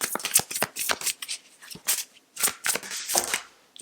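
Tarot cards are shuffled close up in quick riffling bursts, a rapid series of crisp papery flicks and slaps separated by short pauses, with no talking.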